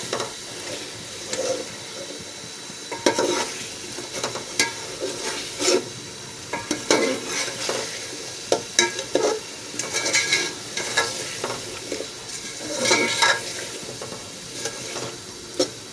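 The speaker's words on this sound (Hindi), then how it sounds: "थोड़ा सा आलू भूनेंगे, 2 सेकंड आलू मसाले में अच्छी तरह भुनाई करेंगे।" Potatoes frying in spices in a pan, a steady sizzle broken by frequent scraping and clattering strokes of a spoon stirring them, close and moderately loud, with no talk.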